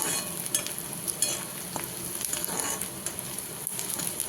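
Onions for chicken sukka sizzle and fry in a pan, a steady close crackling hiss broken by scattered stirring scrapes and clicks, with no voices.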